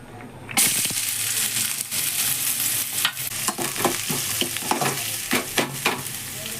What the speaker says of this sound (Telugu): కొద్దిగా ఆయిల్లో ఆనియన్స్ ఫ్రై చేసుకుంటున్నానండి